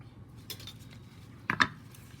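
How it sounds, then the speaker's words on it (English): Knife work on green plantain, with a few faint light taps followed by two sharper close clinks near the end, quiet and alone without talking. "I'm going to slice that nicely."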